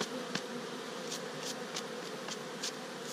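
Honeybees hum in a soft, steady buzz around an opened beehive, faint and close, with occasional individual bees zipping past the microphone.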